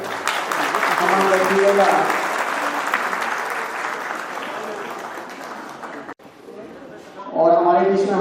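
Crowd applause at a teachers' honour ceremony, sustained clapping that gradually thins, followed by a speaker's voice over a loudspeaker near the end.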